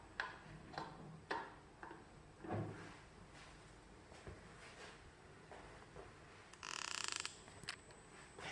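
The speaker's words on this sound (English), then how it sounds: "Then we insert the bottle." A PET bottle slides into the holder of an LCS 710 P laboratory carbonator, giving a run of light clicks, taps and plastic knocks with a brief brighter rattle near the end, close and quiet with no talk.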